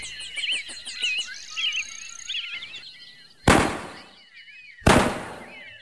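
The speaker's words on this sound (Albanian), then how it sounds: "Këto janë të shtënat e rojtarit të pyllit" Two loud, sharp gunshot bangs from a forest ranger in a cartoon forest tale ring out about a second and a half apart, each decaying quickly, after a stretch of chirping birdsong.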